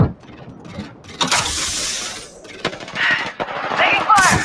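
Gunfire in the battle royale shooter Apex Legends, with sharp automatic bursts and mechanical clicks among rattling game effects, loud and up close, with character voice lines mixed in.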